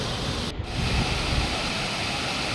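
Steady, dense roar of Burude Falls, a waterfall near Sirsi in Uttara Kannada, heard close and loud as continuous rushing water with no talking.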